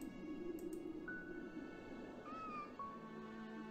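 A cat meows in a hidden object video game, several short, clear meows over a steady background hum, with no talking.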